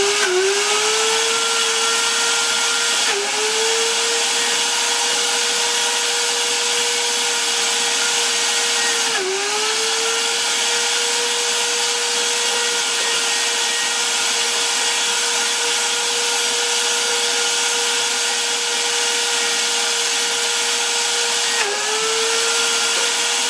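An Oster Versa blender grinding almonds into almond butter, running as a loud, steady motor whine with the pitch dipping briefly at a few moments as the thick mixture catches, with no talking.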